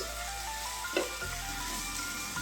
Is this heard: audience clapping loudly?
no